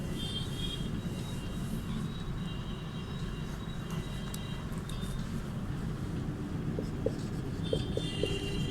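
Steady scratching of writing on a board during a Class VI Hindi lesson, faint and continuous, with a few light taps near the end and no voice.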